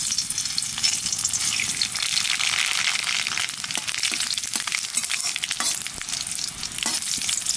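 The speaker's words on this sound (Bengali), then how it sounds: "তেলের পর দিয়ে দেবো শুকনো লঙ্কা সর্ষে" Dried red chillies and mustard seeds frying in hot oil, a loud continuous sizzle and crackle with scattered pops and stirring scrapes, close and unbroken from start to finish.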